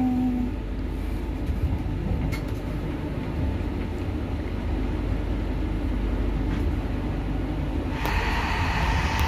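Inside a moving train in Rabat, Morocco, a steady low rumble and rolling rattle carry on continuously, with a brighter clatter rising near the end.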